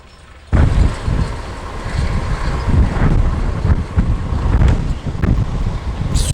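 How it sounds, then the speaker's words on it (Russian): Strong gusting wind over an open hay field, roaring and buffeting against the microphone, bursting in suddenly after a quiet moment and staying loud with surges throughout. "Ох, и ветер разыгрался, он какой."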